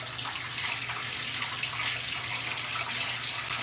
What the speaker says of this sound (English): I gotta get new fresh water.